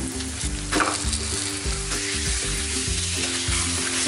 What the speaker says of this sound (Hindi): बस अब इसमें डाल देंगे हम चिकन कीमा।